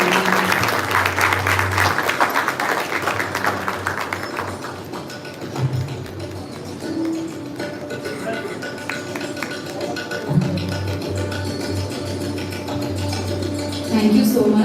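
Audience applause at a university inauguration in Pune, a burst of clapping for the first few seconds that fades, then scattered claps and light crowd noise with thumps.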